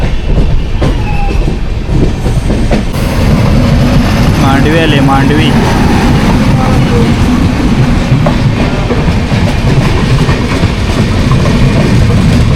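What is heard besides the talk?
Jamnagar Tirunelveli Express train running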